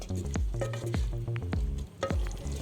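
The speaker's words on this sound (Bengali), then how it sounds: "এবার আমি মশলাগুলোকে খুব ভালোভাবে মাংসের সঙ্গে কষিয়ে নেব 1 থেকে 2 মিনিট।" Chicken and spices fry together in a pan, making a moist, squishy patter broken by regular stirring strokes that come about every half second and sound close and fairly soft.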